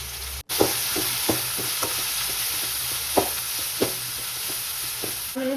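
Onions with salt and chilli powder fry steadily over a slow flame, a constant sizzle broken by periodic scrapes and clacks of a spoon stirring the pan, close and moderately loud with no talk.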